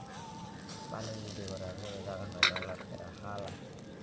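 Fish grilling over a barbecue at an outdoor party, a soft sizzle beneath people talking nearby, with one brief metallic clink partway through.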